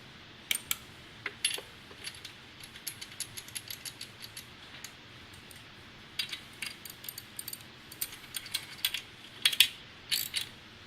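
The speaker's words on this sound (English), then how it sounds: "Tighten your spark plug and then install the spark plug boot." A spark plug is tightened with a wrench on a Kawasaki FS41 engine, giving quick bursts of sharp metallic ratchet clicks, close and fairly quiet, separated by short pauses.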